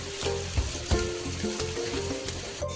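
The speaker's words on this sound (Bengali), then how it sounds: "মশলাতে একটু জল দিয়ে আমি ভালো করে কষে নিচ্ছি" Spice masala with a little water frying and being stirred in a pan for stuffed potato curry, a steady close sizzle with occasional scraping stir knocks throughout.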